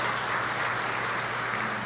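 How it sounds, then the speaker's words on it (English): Audience applause rolls continuously through a hall during a state of the city and county address at a church, an even, dense patter of many hands with no pauses. "Can I get a round of applause from our friends at Golden Corral?"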